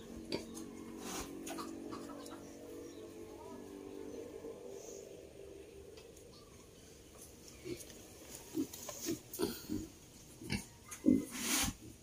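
Grunts from a small herd of wild boar piglets about two months old, loud and close, with several sharp squeals and snorts near the end over a steady background hum.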